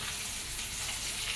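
Fish frying in hot oil, one side already browned and the piece turned over, giving a steady dense crackle and hiss throughout, close and even with no pauses and no voices.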